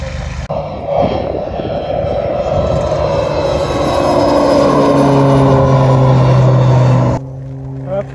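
A propeller airplane passes over Corbas near Lyon, a loud, steady engine drone that holds and slowly rises in pitch, then drops away suddenly, heard over wind and outdoor noise.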